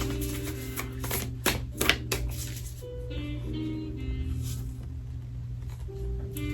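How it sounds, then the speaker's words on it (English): Tarot cards being shuffled by hand, giving several quick riffling bursts in the first two seconds and softer handling noise afterwards, faint and close over a steady low background hum. "let's go ahead and shuffle some more"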